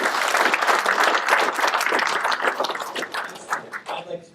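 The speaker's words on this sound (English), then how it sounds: "Round of applause, please." An audience at a ham radio science forum gives a round of applause, with dense, loud clapping that gradually thins and fades out toward the end.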